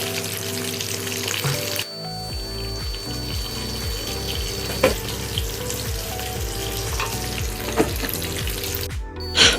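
Chopped tomatoes with a pinch of salt fry in a pan while cooking a mushroom samosa filling, giving a steady close hiss and sizzle with occasional louder pops and a brief rattle near the end.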